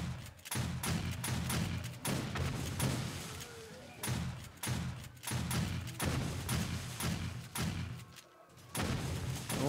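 Gunfire in 7 Days to Die during a horde-day fight, a series of heavy, close shots and thuds in rapid bursts with brief gaps, fairly loud throughout.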